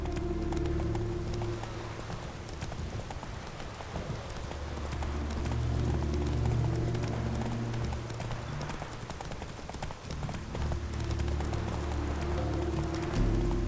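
Roach the horse trots along in The Witcher 3: Wild Hunt, hooves clip-clopping steadily and close. A low rumble runs beneath the hoofbeats, and a brief whinny may break in.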